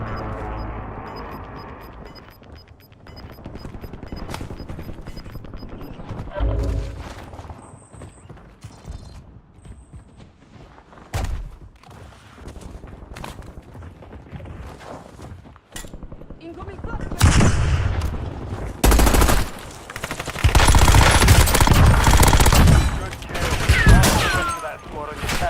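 Call of Duty Warzone Resurgence solo match gunfire, scattered close shots early and then dense heavy bursts of rapid automatic fire and blasts building loud toward the end, mixed with footsteps and game effects and a voice talking.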